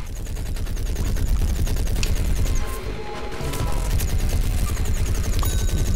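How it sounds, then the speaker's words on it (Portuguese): A metal plant fires a rapid, sustained stream of gunfire in Plants vs Zombies: Garden Warfare, with dense rattling shots running nearly nonstop and a short break in the middle. "Essa planta metálica bate forte, mais pela quantidade de tiros, né?"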